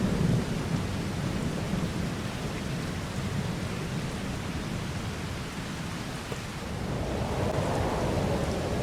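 Rain and thunder play in Farming Simulator 22, a steady dense hiss of rainfall under deep rolling rumbles that swell toward the end, with no talking.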